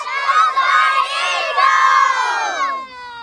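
Children shout together in a loud, sustained group cry predicting the winner of an FFA Cup preliminary football match between Southside Eagles and Brisbane Strikers, the yelling swelling twice before trailing off.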